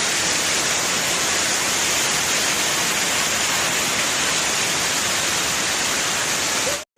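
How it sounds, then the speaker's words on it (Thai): Kuang Si waterfall near Luang Prabang, Laos, a tiered cascade: steady, dense roar of falling water, close and loud, unbroken for the full length with no voices, cutting off abruptly at the very end. "นี่เป็นอีกหนึ่งชั้นของน้ำตกตาดควางสี"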